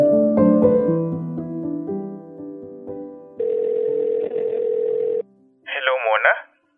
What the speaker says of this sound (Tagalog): Kaya naman tinawagan ko siya agad.